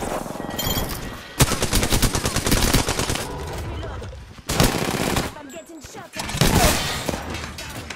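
Rapid automatic gunfire from the Apex Legends shooter game, loud bursts of sustained fire broken by brief pauses, with a player's voice speaking over the action.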